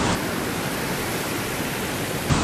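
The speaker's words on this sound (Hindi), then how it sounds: "पानी का शोर एक्सट्रीम लेवल पे है भाई।" Swollen river at Kotabagh in Uttarakhand rolling large stones along, heard as a loud, unbroken broadband roar of rushing water close by, with no voices.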